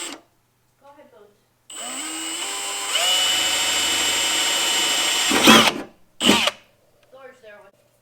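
A Milwaukee M18 Fuel 2904-20 half-inch hammer drill driver whirs up to a loud, steady high-pitched run for several seconds, then stops, followed by a couple of short bursts, with faint voices before and after.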